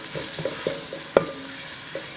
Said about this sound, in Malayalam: നമുക്ക് ഇതിക്ക് ഇഞ്ചി വെളുത്തുള്ളി പേസ്റ്റ് ആട്ടോ ഞാൻ ഇടാൻ പോണേ